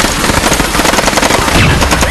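Machine gun fire in a dubbed war film: loud, dense rapid bursts of automatic gunfire rattling continuously, with a voice faintly mixed underneath.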